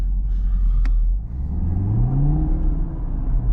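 A Chevrolet Camaro with an LT1 engine in Tour mode idles in the snow with a deep rumble, then revs up in a rising, restrained whir as the throttle is held back, loud and close.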